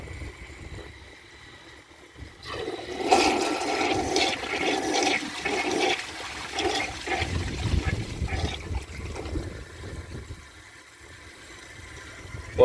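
A 2002 American Standard Cadet toilet flushes with a washcloth and a grocery bag in the bowl, a sudden loud rushing swirl of water that churns for several seconds, then settles into a softer trickle as the bowl refills.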